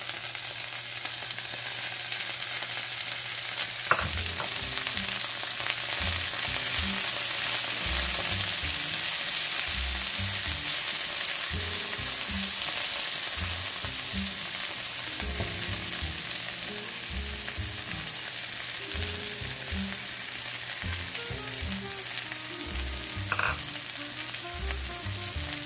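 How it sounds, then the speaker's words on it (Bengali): Garlic frying in oil with coriander leaves added for a chayote mash, a continuous loud sizzle with occasional stirring scrapes and taps throughout. "রসুনটা ভাজা হয়ে গেছে, আমি এখন এর মধ্যে দেব"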